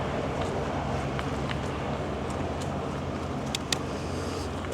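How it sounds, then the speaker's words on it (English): Riding a Duotts C29 750W electric bike without pedal assist produces a constant rushing roar of wind and road noise, loud and close, with a few faint clicks and a small knock near the end. "So at the moment I'm just riding this without any kind of pedal assistance"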